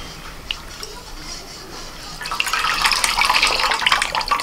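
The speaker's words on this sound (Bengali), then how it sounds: "ঠান্ডা জল দিয়ে ভালো করে ধুয়ে নিতে হবে ছানাটাকে।" Cold tap water runs steadily over fresh chhana cheese curd being rinsed, a soft trickle that swells into a louder, fuller splashing stream for the second half, with no voices.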